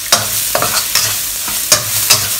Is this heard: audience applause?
no